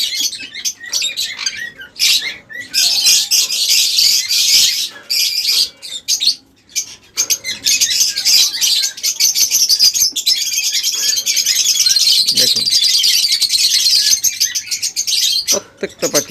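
Many caged birds at a market stall chirp and tweet continuously, a dense high twittering chorus with short pauses and occasional squawks, fairly close and loud.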